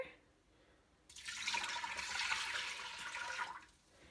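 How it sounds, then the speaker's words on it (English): Water poured into an Instant Pot inner pot, a steady rushing pour of about two and a half seconds that starts abruptly after a quiet moment and tapers off, heard close and alone. "I'm going to pour in 4 cups of water"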